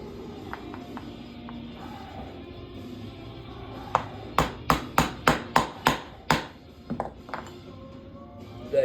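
An AR gas block is tapped into place with a brass hammer: a few light taps, then a run of seven sharp metallic strikes in steady rhythm, close and distinct over quiet room tone.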